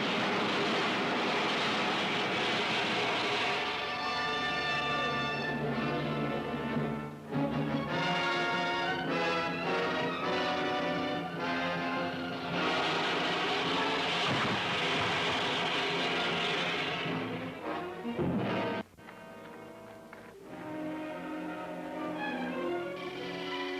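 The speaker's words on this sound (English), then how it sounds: "An airborne craft like nothing I've ever seen on Venus is landing at coordinates" Landing of an alien spacecraft as a film sound effect from a vintage sci-fi serial, a loud sustained droning roar with shifting tonal whines that rise and fall, continuous for over twenty seconds with a brief dip near the end.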